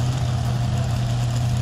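A 1984 Kirovets K-701 tractor, 300 horsepower, weighing 13,600 kg, at a tractor pulling event in Hajdúböszörmény, its engine running with a steady deep low rumble, loud and continuous throughout, with no voices.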